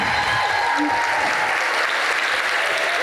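Sustained applause from single women in the audience at an annual gathering, steady dense clapping filling the room without a break.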